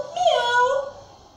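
A single drawn-out cat meow sounds close and clear, rising and then falling over about a second.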